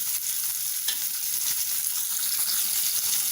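Small onions sautéing in hot oil for a Tamil mushroom kulambu, a steady close, bright sizzle with a few soft stirring scrapes, continuous and fairly loud without any talk.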